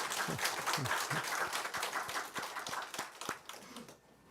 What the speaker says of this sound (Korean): 오늘 박수로 한번 환영해 주시기 바랍니다.